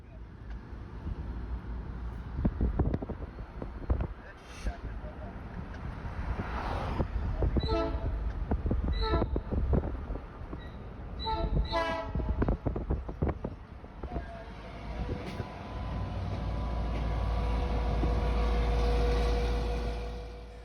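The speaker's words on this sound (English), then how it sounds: "get a pacing shot of the train as it rumbled by" Low, heavy rumble of an MP-15 freight locomotive on the Housatonic Railroad passing close by, with clanking and mechanical noise, a brief horn blast and wind buffeting toward the end.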